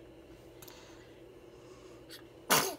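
A single sharp sneeze bursts out at the very end, after a few seconds of quiet room hum.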